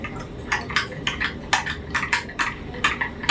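A spoon stirs and scrapes through food mixed with coconut aminos sauce in a pan, making a steady series of close, bright clinks and scrapes with no talking.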